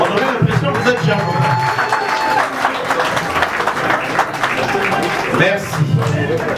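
Wedding guests applaud the bride in a hall, sustained dense clapping from a crowd with a voice talking over it throughout.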